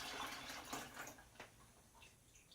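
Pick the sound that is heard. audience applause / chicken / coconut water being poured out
coconut water being poured out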